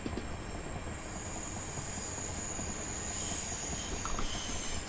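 A train runs in Train Simulator 2022 on the Chatham Mainline: a steady loud rumble of wheels on rail with a faint high metallic whine above it, continuous and close, no voices.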